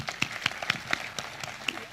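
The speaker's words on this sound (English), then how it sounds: "a massive round of applause to Tal" A small audience applauds a speaker at a startup talk, a sparse, uneven patter of distinct individual claps, fairly faint and irregular, with no voices over it.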